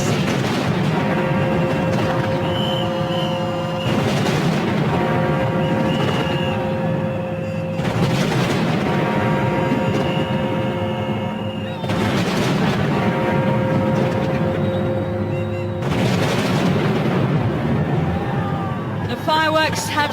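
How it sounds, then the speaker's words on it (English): New Year 2006 fireworks over London burst in repeated heavy booms and crackling volleys every few seconds, with a crowd's hubbub beneath. "Fireworks have started"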